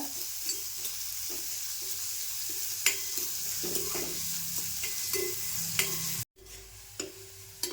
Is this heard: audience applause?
no